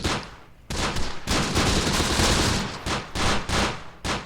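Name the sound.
rifle shots in the video game Close Combat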